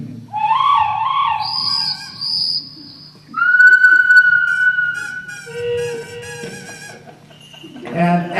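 Whistled bird calls of chirps, warbles and long sliding tones rise and fall in separate phrases. They may be imitated on a flute or whistle rather than sung by real birds.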